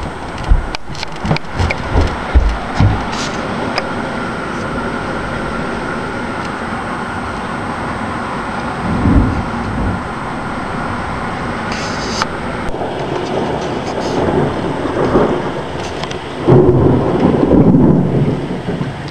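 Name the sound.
rain and thunderstorm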